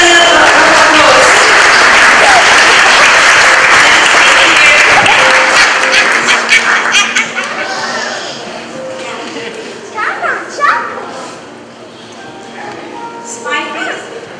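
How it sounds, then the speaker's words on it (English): Loud, dense audience applause at a church Sunday service, honoring a first-grade child, fills the first several seconds, then fades away as a voice talks over the thinning claps. "Let's give it a little applause."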